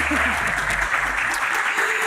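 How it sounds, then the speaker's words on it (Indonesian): Studio audience applause at a televised Q&A show welcoming the comedian Sule, loud clapping throughout with a voice and low tones mixed in near the start. "Tepuk tangan lagi dong"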